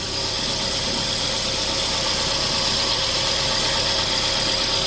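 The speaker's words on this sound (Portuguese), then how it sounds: "vou ligar o carro lá e vou ver se vai fazer o barulho" Renault Fluence engine idling with a steady, fairly quiet drone and a faint low rumble, continuous throughout with a broad hiss on top and no voices.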